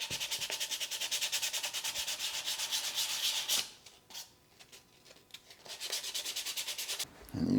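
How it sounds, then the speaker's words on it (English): Rapid rhythmic sanding strokes scrape over a painted slip casting mold, close and steady, then pause briefly with a few scattered scrapes before the back-and-forth rubbing resumes. "The paint is dry, let's go ahead and sand it a little bit more."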